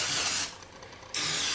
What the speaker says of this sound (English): we're going to take just a little bit of cooking spray and just spray each